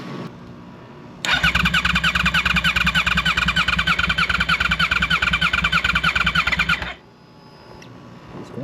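A 2009 Yamaha R1 motorcycle engine cranking on its starter: a fast, steady rhythmic whirring that runs about six seconds without catching, loud and close, with quiet pauses before and after.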